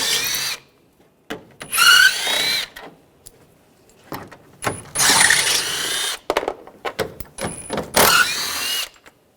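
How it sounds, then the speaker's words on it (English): Bursts of a power driver fitted with a 10mm socket spinning out bolts from the grille cover on a 2013-2016 Dodge Dart, several loud close whirring runs separated by pauses. "I'm going to use a 10mm socket,"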